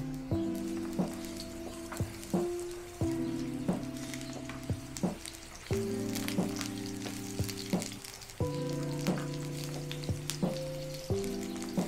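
Onion frying in a pan, a steady sizzle running under music with recurring tones and sharp clicks throughout, moderately quiet and continuous.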